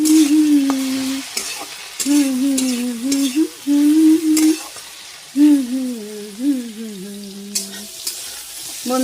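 Pointed gourd (potol) sizzles as it fries in a pan in a home kitchen, with stirring scrapes and a wavering tonal hum riding over the steady frying noise throughout.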